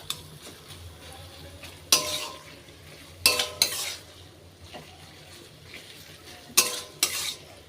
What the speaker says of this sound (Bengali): এটাকে ভালো করে কষাতে হবে।